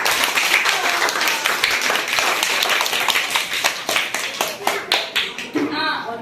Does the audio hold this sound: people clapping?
yes